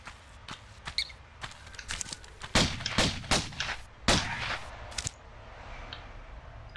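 Pistol gunfire in the video game Tomb Raider, a series of sharp, fairly close shots in irregular bursts, some quick pairs and some spaced singly, alone without talk.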